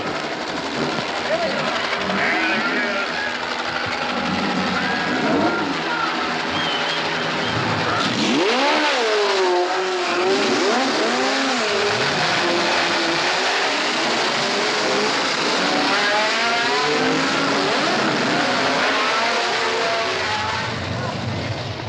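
Race cars roaring off at the start of the 1970 12 Hours of Sebring, a dense, continuous wall of engine noise with overlapping revs and passing cars, loud throughout.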